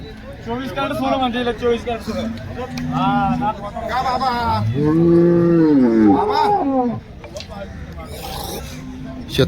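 A cow at the Loni cattle market moos in long, loud, drawn-out calls, several in a row and close by, over a busy background of market chatter and voices.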